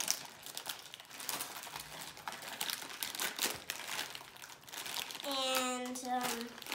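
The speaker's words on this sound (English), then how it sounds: "So let's open this bag also." A plastic MRE military ration pouch is torn and opened, giving steady crinkling and rustling up close. A voice speaks briefly near the end.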